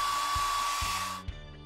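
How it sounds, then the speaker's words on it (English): A hair dryer blow-dries long hair with a loud, steady whirring whine and a few soft thumps, then switches off abruptly, leaving a quieter hum. "I'll blow dry my long hair."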